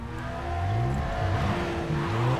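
A Porsche in the Need for Speed World racing game, during a rally-car demolition derby, revs loudly up close, its engine note rising and falling in quick shifting sweeps.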